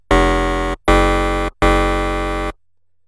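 A loud, dense bass synthesized in Massive and pitched down an octave, three sustained harmonic-rich blasts with brief gaps, buzzing and full, the last held longest before cutting to silence.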